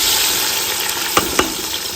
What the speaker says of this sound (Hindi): घी गर्म हो चुका है, इसमें जो है हम मसाले ऐड कर रहे हैं